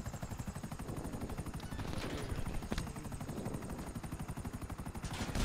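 Rapid gunfire in GTA 5 goes off as fast rhythmic bursts, a steady pulsing stutter that runs the whole clip at moderate distance, with no talk.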